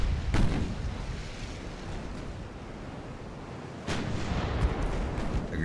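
Heavy naval gun salvos boom in the Ultimate Admiral: Dreadnoughts warship game, two big blasts a few seconds apart, each rolling into a long broad rumble over constant ocean and battle noise.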